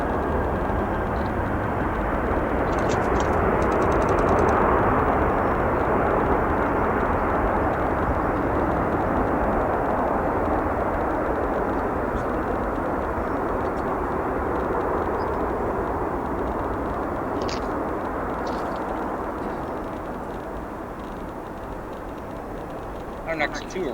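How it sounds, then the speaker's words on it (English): An Atlas Air Boeing 737 lands at O'Hare International Airport, producing a loud, steady, broad jet roar that holds for most of the stretch and then eases off toward the end. "Nice landing there for that 737,"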